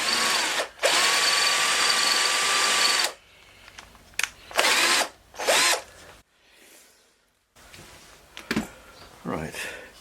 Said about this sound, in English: I'm using a screwdriver drill. It does jerk and just stop